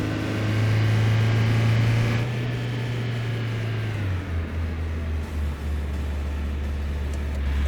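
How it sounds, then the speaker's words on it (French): A car engine in the City Car Driving video game runs at full throttle with a loud sustained drone that holds high, then drops in pitch as the revs fall away, steady with no talk. "Ah, on a mis le moteur là à fond."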